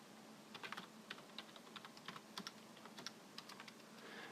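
Quiet, close keystrokes on a computer keyboard as a command is typed, irregular clicks in short bursts with small pauses between them.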